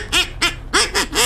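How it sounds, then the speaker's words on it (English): Ducks in the hunting video game Hunter Call of the Wild give five loud, close, honking quacks in quick succession. "Oh, dude, look, there's already ducks."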